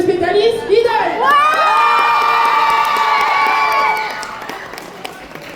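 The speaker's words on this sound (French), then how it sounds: "Faites un tonnerre d'applaudissements pour Worm dans son co-spécialiste Alice Vidal" A convention crowd at a cosplay roleplay contest and prize ceremony erupts in loud cheering and high-pitched shouts and whoops, with some clapping mixed in, before the noise tapers off.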